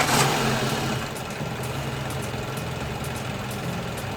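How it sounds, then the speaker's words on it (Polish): A Renault Laguna 2 engine idles smoothly after an engine wash, a steady close mechanical hum with faint ticking, and no voices. "Tak jak widać i słychać zresztą, silnik pracuje bez zarzutu."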